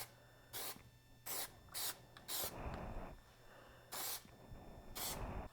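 Several short bursts of a spray can hissing rubber coating, separated by pauses, close to the microphone, with a faint steady hum in the background.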